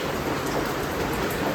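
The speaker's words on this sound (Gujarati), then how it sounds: "એવો વરસાદ આવે છે એવો વરસાદ આવે છે" Heavy rain pours down in a steady, dense hiss that stays even and loud throughout, with no voices over it.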